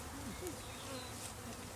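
Honeybees, among them a large drone, buzz in a steady, faint, close hum of wings with soft pitch glides as individual bees pass, during an outdoor beekeeping demonstration at a nature center.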